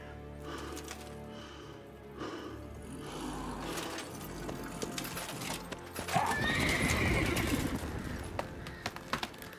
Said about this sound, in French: Très gros cheval